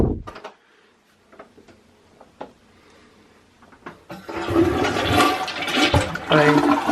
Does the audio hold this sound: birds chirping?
no